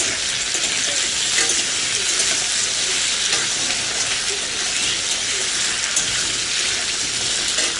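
Potatoes frying in a pan in a home kitchen, a loud, steady, hissing sizzle that runs without a break and has no talk over it.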